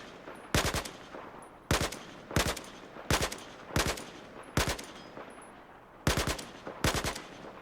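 Automatic rifle fire on the Battlefield 4 test range, short repeated bursts of sharp gunshots spaced about a second apart, loud and crisp with no talk.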